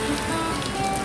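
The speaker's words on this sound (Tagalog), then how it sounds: "lumakas yung ulan mga lods" Heavy rain pattering and hissing steadily on surfaces during a holiday bike ride, a dense continuous wash of drops with no voices.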